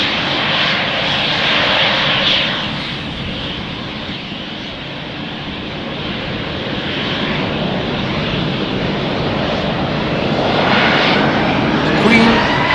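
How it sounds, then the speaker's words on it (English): An Embraer jet lines up for departure on runway 36L at Amsterdam Schiphol, its engines a loud, sustained roar that dips slightly and then swells again, with a voice talking over it. "You can hear it. The Embraer already lined up,"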